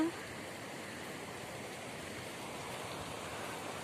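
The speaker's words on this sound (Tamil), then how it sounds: "மழை பெஞ்சது வந்து ரொம்ப தண்ணி ஃபோர்ஸாக போயிட்டு இருக்கு" Rainwater rushes forcefully along a channel after heavy rain, a steady, dense roar of flowing water that stays even throughout with no voices.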